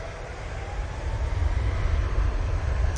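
A Virgin Airbus A330 widebody arriving from Atlanta on approach to land at Manchester Airport, passing over a main road; a deep, heavy low rumble that swells slightly louder through the short stretch, with no voices.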